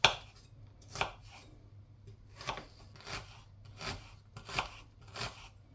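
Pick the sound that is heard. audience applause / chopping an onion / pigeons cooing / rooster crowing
chopping an onion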